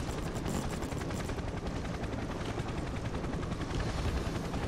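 Automated sentry guns rattling in Payday 2 during a biker heist, a steady unbroken stream of rapid gunfire with heavy ambient clatter throughout, loud and continuous.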